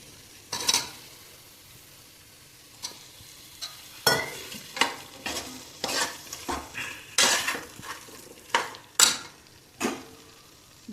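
Onion and potato sautéed and stirred in a pressure cooker, repeated sharp metal scrapes and clanks of a spoon against the pot in an irregular rhythm over a faint sizzle.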